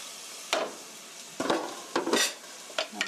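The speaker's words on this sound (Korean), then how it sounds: "여기에 아까 썰어 놓은 양파와 마늘을 그대로 넣어주세요." Sliced onion and garlic are stirred in a preheated pan for a chicken steak. A quiet sizzle is broken by about five short scraping, clattering strokes of a utensil against the pan.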